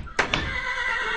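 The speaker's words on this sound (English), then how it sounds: "Shut up, horse." A horse in the Minecraft video game neighs loudly with a sharp whinny, followed by a steady in-game ambient hum with no talk.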